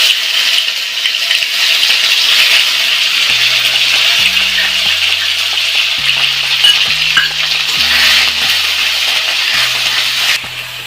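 Fenugreek seeds sizzle loudly in hot oil in a wok, a steady close frying hiss running throughout with faint low clicks and thuds of utensils.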